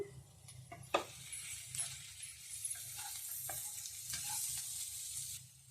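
Potato pieces stir-fried with salt in a pan, a faint steady sizzle broken by light scraping and clinking strokes of a utensil against the pan, close but quiet, with no speech.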